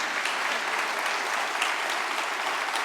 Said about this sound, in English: I would love to have a round of applause for Werner.